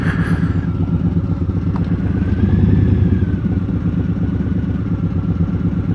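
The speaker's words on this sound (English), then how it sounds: "My boy just got a Ducati Street Fighter." A Ducati Streetfighter motorcycle, over 200 horsepower on a roughly 400-pound frame, rumbles close by in a steady, loud idle with a throbbing low pulse and no talk over it.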